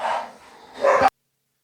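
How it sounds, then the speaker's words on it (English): Dogs barking in a dog fight: a brief, close, rough burst of barking and snarling that swells at the end and then cuts off abruptly. "I heard a dog fight going on."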